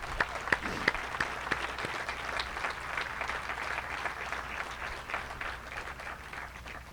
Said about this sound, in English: everybody deserves a round of applause for that